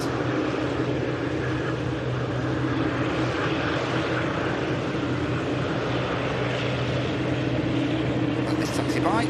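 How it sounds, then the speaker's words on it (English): Emerald Airlines ATR turboprops operating for Aer Lingus taxi out at Manchester Airport, producing a loud, steady propeller and engine drone that continues unbroken throughout, with someone talking over it. "There's some of the ATRs from the Emerald Airlines operating for Aer Lingus, of course, just taxiing out."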